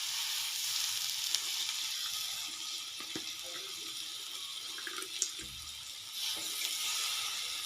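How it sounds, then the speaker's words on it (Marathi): Finely chopped onion, soaked in water, goes a little at a time into hot oil, giving a hissing, watery sizzle that swells and fades with a few soft clinks, close and unvoiced. "तो कांदा त्या पाण्यामधून काढून थोडं थोडं करून त्यात टाकायचा"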